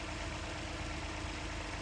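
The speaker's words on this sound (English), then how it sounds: "Now start your car by putting your foot on the brake and starting." A Lexus RX450h hybrid engine idles steadily while warming up with a coolant change underway, a low continuous hum with faint vibration and no voices.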